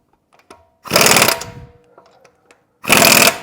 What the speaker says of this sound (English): now what I'll do is I'll just get my impact wrench